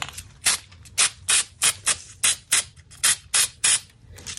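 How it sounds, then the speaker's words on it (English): Short bursts of hissing aerosol sealant spray, about ten quick puffs in an uneven rhythm, close by with quiet pauses between them. "I'll come in with some of my sealant spray,"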